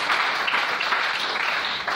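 Church congregation clapping in praise of the Lord, a dense, steady burst of applause from many hands filling the room at moderate loudness.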